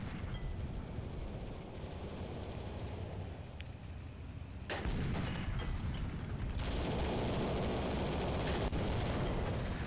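Tank cannon fire in a World War 2 shooter game, a distant boom amid scattered gunfire, then a sudden loud blast opening into dense, sustained battle noise, no voices over it.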